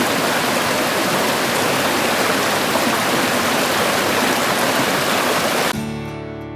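A mountain creek in West Virginia rushes loudly and continuously close by during a steep horseback trail ride, then the sound abruptly drops away in the final second.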